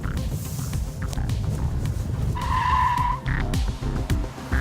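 Car tyres lose grip on a very wet test surface, a continuous hiss of spray and tyre noise with a rising squeal partway through under a steady engine drone.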